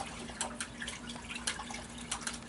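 A chopstick swirls air-bubbly sand through aquarium water in a hospital tank, making soft, irregular watery swishes and light trickling splashes, close up and fairly quiet, with no voices.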